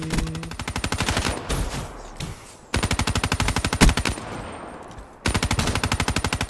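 An LMG in a video game fires long rapid bursts of evenly spaced shots, loud and close, stopping briefly between strings with a few scattered single shots and no talk.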